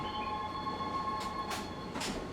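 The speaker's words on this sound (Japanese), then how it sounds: "列車は地下線に入ります" JR Sobu Line Shiosai limited express train running toward Tokyo, a steady close rumble of the carriage with a faint tonal whine and several brief hissing surges, heard from inside the train.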